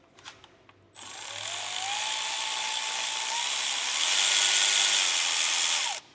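Electric power tool driving transmission bolts on a Ford 6R140 transmission. A steady whirring runs for about five seconds with a rising pitch, then stops abruptly, close and loud with no talking.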